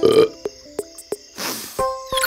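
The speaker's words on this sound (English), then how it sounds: "That was one fruity burp." A cartoon mouse deer lets out a loud, gurgling burp at the start, followed by a few short clicks and then a breathy rustle with a rising squeak near the end.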